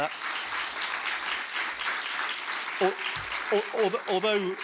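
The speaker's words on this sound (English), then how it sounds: "can we just get a massive round of applause, please, for the panel?" Applause for a panel at a livestreamed event in a City of Glasgow College hall, a steady moderate wash of clapping that continues as a voice begins talking near the end.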